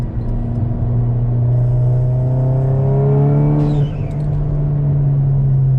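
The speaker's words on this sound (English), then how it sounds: "the blow-off valve is really cool. I love it, and I've been pretty happy with it. It makes a really fun noise." A hybrid-turbo MK7 Golf GTI revs up through the gears with a rising engine drone, then lifts off for a sharp hissing whoosh from the blow-off valve, loud and close from inside the car.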